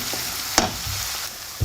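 Food fries gently in butter in a pan, a low steady sizzle broken by a sharp utensil tap and a soft knock at the end, with no talking.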